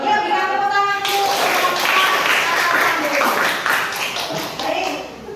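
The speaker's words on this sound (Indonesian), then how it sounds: "berikan tepuk tangan dulu" A classroom audience at a teacher performance assessment breaks into applause after a short tonal sound, the clapping dense and steady for several seconds before thinning out, with voices mixed in.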